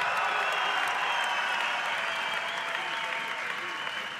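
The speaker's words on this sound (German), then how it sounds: "Hier Applaus für Simon Schürger und Sebastian Mannlinger." Crowd applause in a hot hall at an MMA event, saluting fighters Simon Schürger and Sebastian Mannlinger, a steady wash of clapping from many spectators, continuous and even throughout.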